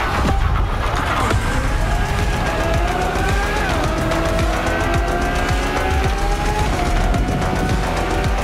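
A newer Lamborghini Countach races in the video game The Crew Motorfest, its engine revving and roaring without a break while the tires squeal through the corners.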